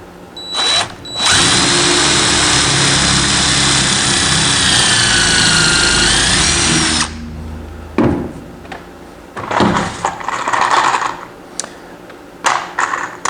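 A power drill whines loudly and steadily for about six seconds while drilling holes to fit wheels onto a shop dolly, then stops, followed by scattered handling clatter and brief bursts of tool noise.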